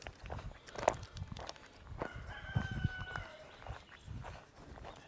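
Chickens cluck and a rooster crows out in a farm pasture, with footsteps crunching nearby and a few soft, scattered bird calls over outdoor background noise.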